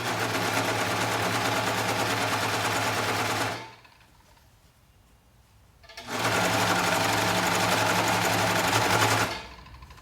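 A serger sewing machine runs fast through fabric in two bursts of steady, loud mechanical whirring with a dense stitching rattle, separated by a short quiet pause while a beginner guides the material through next to the blade.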